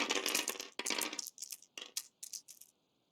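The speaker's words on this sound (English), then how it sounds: "And we'll just roll this dice in this one." Dice are rolled in a tabletop wargame, a burst of rattling clatter followed by several shorter, fading bounces and clicks as they settle close by.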